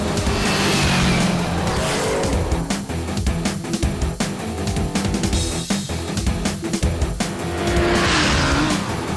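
Cartoon car in Kicko & Super Speedo brakes hard, loud tire screeches rising at the start and again near the end, amid a roaring engine and choppy clattering effects.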